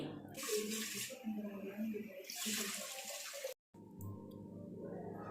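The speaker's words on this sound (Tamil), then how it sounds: "2 கப் அளவு தண்ணி சேர்த்துக்கிறேங்க." Water, about two cups, pours in splashy bursts into a pressure cooker at close range for cooking green gram sundal while a voice talks over it, then stops abruptly.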